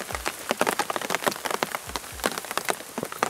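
Steady rain patters and drips on leaves and ground in a birch forest, with scattered louder drops close by, no voices.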